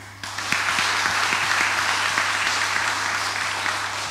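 Applause from a church congregation at a mass honouring the organiser, with steady, dense clapping that starts abruptly and stays loud and even throughout, with no speech.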